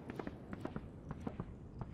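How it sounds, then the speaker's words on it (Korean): Footsteps in the Valorant video game, a quick run of soft repeated steps heard faintly under a steady game background. "방금 발소리를 통해 킬조이가 본대로 합류하는 걸 알게 되었고"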